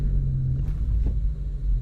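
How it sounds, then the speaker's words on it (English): Manual car crawling forward in first gear through traffic, a steady low engine rumble holding close and even throughout. "So once again, I'm using first gear to slowly creep forward."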